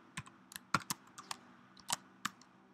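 Keystrokes on a computer keyboard entering a domain password while joining a Solaris 11.1 system to a Windows domain, about ten sharp separate clicks at an uneven pace, close and fairly quiet, no talking.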